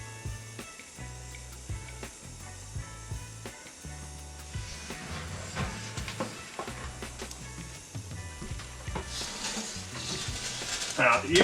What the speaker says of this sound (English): Now, you can hear the sugar start to sizzle.